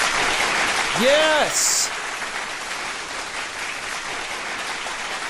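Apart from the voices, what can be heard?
audience applause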